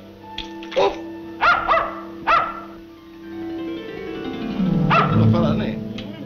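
A small toy dog in a 1939 comedy film gives three short, sharp yips close by. A longer whining, voice-like sound follows.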